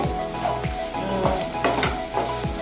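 Food sizzles and fries steadily in hot oil for a Bengali koi fish curry with taro stolons, while a utensil stirs and scrapes the pan in repeated strokes, up close with no talking.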